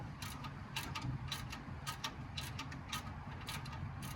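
A ratchet with a 15mm deep socket loosening exhaust nuts on a C8 Corvette, a steady rapid clicking repeated in regular strokes, close up under a constant low background hum.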